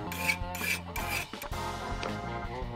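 A file rasps repeatedly against golden prison bars in quick scraping strokes, set against background music, fairly faint and with no talking.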